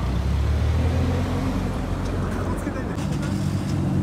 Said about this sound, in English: Wow, those are a pair of clean Silvias that just rolled in.